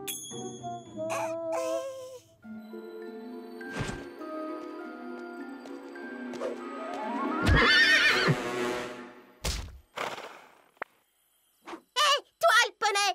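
A cartoon pony whinnies and neighs, with hooves clip-clopping, amid other scattered cartoon effects and character voices speaking French, the neighs rising loud near the middle, then sharp separate hits toward the end.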